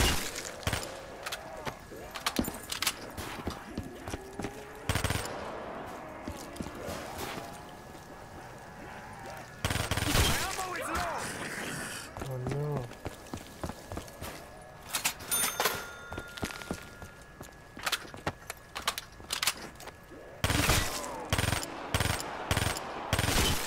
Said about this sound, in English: I'm going to do multiple headshots in one burst